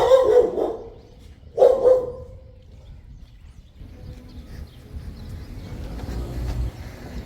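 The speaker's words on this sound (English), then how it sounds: "Look at that little weenie dog coming right there." A small dachshund barking outdoors on a rural homestead street in Guanajuato, two loud close barks about a second and a half apart, then a quieter stretch of low background noise.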